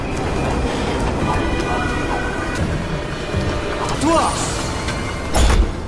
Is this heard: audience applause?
no